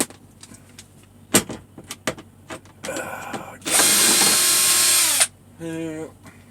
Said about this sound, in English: I'm going to pop these 4 screws out real quick